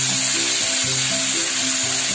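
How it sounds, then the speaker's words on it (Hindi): Chopped tomatoes are added to browned onions in a pan and give off a loud, continuous sizzle that is very close and stays unbroken throughout. Soft music plays under it. "अब मैं इसमें ऐड करूंगा टोमेटोस चॉप किए हुए"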